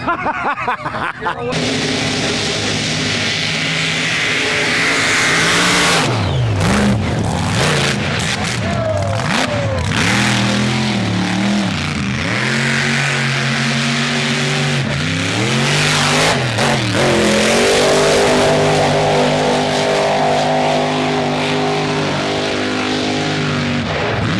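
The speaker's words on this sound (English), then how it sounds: "Truck was super fast coming through the pit" A mud racing truck roars through the pit at a South Carolina mud race. The loud engine revs rise and fall, ending in a sustained high-revving blast, and the crowd and announcer can be heard beneath it.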